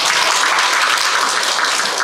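Audience applause at a biodiversity survey sharing session in Busan, honoring researchers and participants: dense, steady clapping from a crowd, loud and continuous throughout.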